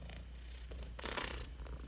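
A cat purrs steadily and close up, a soft continuous rumble that is faint but sits clearly alone.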